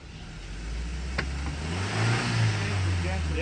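A Suzuki Jimny JB74 crawls slowly up an offroad slope, its engine droning low and steady, then rising in a gentle rev toward the end, heard up close with a faint clunk partway through.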